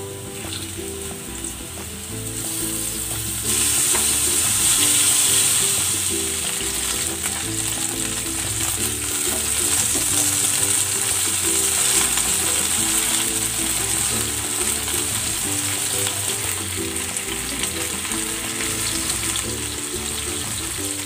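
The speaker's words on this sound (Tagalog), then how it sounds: "ipiprito ko na itong chicken" Flour-dredged chicken fries in hot cooking oil with a steady, loud sizzle that swells after a quieter start and holds for the rest of the stretch, with no talking over it.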